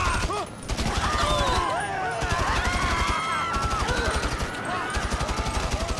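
Rapid bursts of video game gunfire in GTA 5, a loud fusillade of repeated shots in fast rhythm with a street-battle clatter throughout, running continuously without a break.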